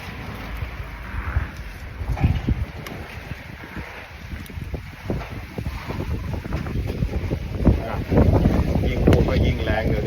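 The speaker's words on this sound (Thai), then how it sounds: "ลมแรง" A strong, cold seasonal wind gusts outdoors, roaring and buffeting the microphone with rising and falling surges that build louder toward the end, while someone speaks intermittently over it.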